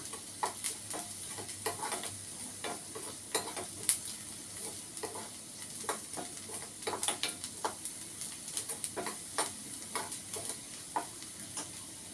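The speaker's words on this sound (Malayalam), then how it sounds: "ഉള്ളി മൂത്തിട്ടുണ്ട് കേട്ടോ." Onions frying in a pan, a continuous soft sizzle punctuated by regular sharp taps and scrapes of a utensil stirring against the pan, close and quiet.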